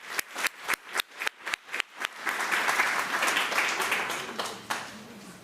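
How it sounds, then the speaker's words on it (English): Audience applause at a school board meeting, starting as a run of separate sharp claps that swells into a sustained wash of clapping from the room, then tapers off with a final clap. "let's give him another round of applause"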